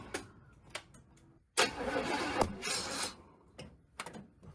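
A Chevy 350 TBI engine cranking on a weak battery: a few slow, sluggish starter turns, then a longer rough burst of cranking, close, followed by more short, faltering attempts.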